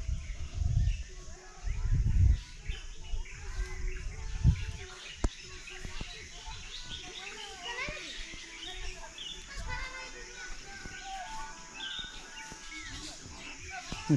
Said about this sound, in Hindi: पक्षियों की आवाज़ है यहाँ पे।